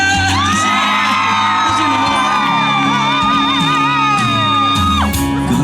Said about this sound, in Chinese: 给自己一个掌声，加尖叫声